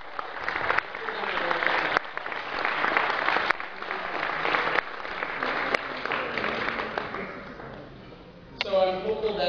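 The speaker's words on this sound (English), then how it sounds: "I think we owe them a round of applause" Sustained applause from a graduation audience after a valedictorian speech, dense and steady throughout before fading, with a voice starting to speak over the end.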